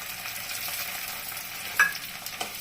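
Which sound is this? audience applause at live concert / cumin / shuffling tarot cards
cumin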